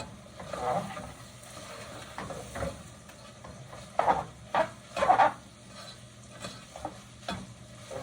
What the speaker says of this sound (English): So you stir it, just stir it for like a minute or so.